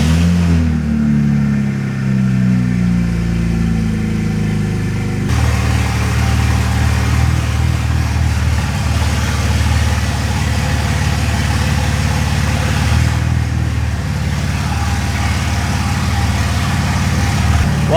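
A BMW that had been flooded runs in a garage, its engine idling loudly and steadily with a shift in tone as the transmission engages, and a low hum underneath.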